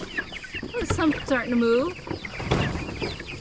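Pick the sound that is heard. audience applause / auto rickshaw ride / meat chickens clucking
meat chickens clucking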